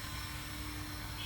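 An XK X251 mini racer drone in flight, giving a steady, dense rotor whine with a high tonal hum, continuous and close throughout a brief stretch with no talk.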